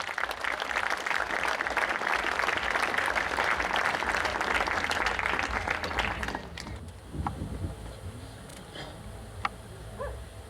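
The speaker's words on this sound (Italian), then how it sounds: "Un applauso." Audience applause at an evening stage show in Mussomeli, a dense burst of many hands clapping for several seconds before thinning out into scattered claps, with a dog yelping faintly in the background afterwards.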